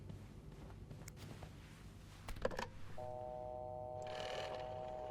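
Phone dialing in the video game This Bed We Made: a few faint key clicks, then a steady electronic dial tone hums for the last couple of seconds.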